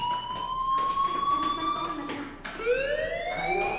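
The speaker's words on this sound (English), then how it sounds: "do you hear that fire alarm?" A fire alarm rings inside the Life is Strange video game: a loud, continuous electronic tone that slides slowly in pitch, breaks off briefly, then swells up again.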